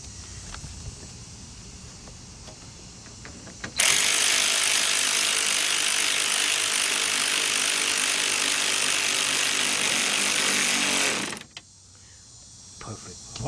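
A 10mm socket on a ratchet tightens a radiator bolt on a 2005 Kia Amanti 3.5, giving a fast, continuous clicking run of about eight seconds, close and loud, with quieter handling noises before and after.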